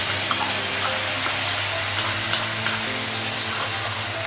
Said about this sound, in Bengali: আলু পেঁয়াজটা ভাজা হয়ে গেছে, মশলাগুলো লাগাবো।